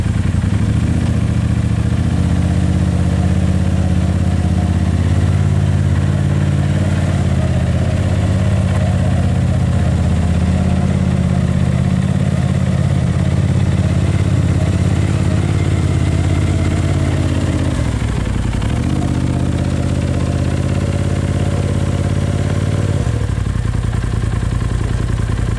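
A Polaris RZR Turbo S side-by-side in a drag race, in two-wheel drive, roars loud and steady with a dense, rumbling engine drone that dips briefly and then resumes at full power.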